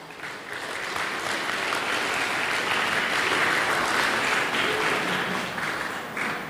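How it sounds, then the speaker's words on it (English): A conference audience claps in sustained applause, building quickly to a full, even roar of hands that holds for several seconds before easing off. "please give applause to our speaker and to all of you"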